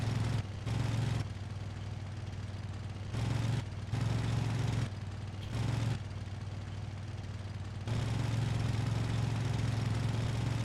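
Crane engine on a railroad video game running with a rough, jackhammer-like chug, a low idling drone that cuts between louder and quieter stretches, stepping up in level several times, faint and steady throughout.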